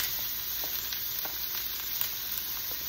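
Onion and garlic frying in butter for an Alfredo spaghetti sauce, a steady close sizzle with faint clicks of stirring throughout, no voices.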